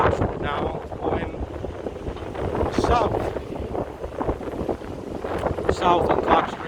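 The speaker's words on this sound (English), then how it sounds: "It's very windy at this corner. I don't know why it's windy. You probably can hear it in the video." Strong wind buffets a microphone at a downtown Chicago street corner on Clark Street, with loud gusty rumbling and flutter under someone talking, plus faint city background.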